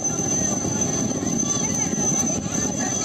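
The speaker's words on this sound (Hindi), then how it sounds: "गांव में फंसे 5 लोगों को हेलीकॉप्टर से रेस्क्यू किया गया।" A coast guard rescue helicopter flies during flood rescue operations, its steady rotor and engine drone continuous and fairly loud, with a voice speaking over it.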